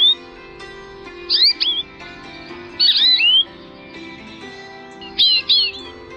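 Three short bursts of bright, twittering American goldfinch song with rising and falling notes, separated by quiet gaps, close and clear.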